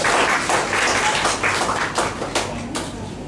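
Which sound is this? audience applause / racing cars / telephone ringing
audience applause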